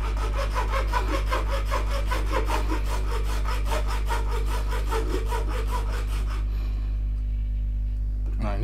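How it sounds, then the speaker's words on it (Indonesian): A hand saw cuts with rapid, regular back-and-forth strokes, close and loud over a steady low hum, then stops abruptly. "kemudian kita akan gergaji dengan posisi yang sama di sini."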